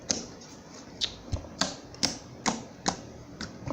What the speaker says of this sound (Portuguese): Vou fazer aqui o clique, gente.